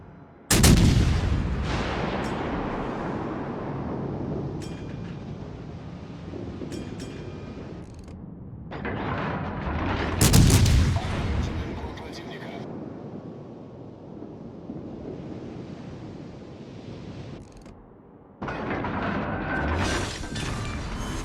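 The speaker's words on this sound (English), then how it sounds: "let me just skip forward a hair so you can see me dropping some long AP bombs onto a Bismarck" Armor-piercing bombs from an aircraft drop onto a Bismarck battleship in World of Warships: Legends. Several deep booming blasts ring out over a constant wind-like engine rush, loud and spaced apart.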